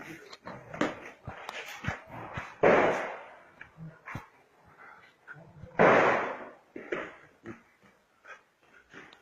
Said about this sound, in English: don't know if you people are hearing the sound of the gunshot.